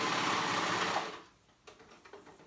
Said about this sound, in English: Probably should have changed my setting on my cover stitch.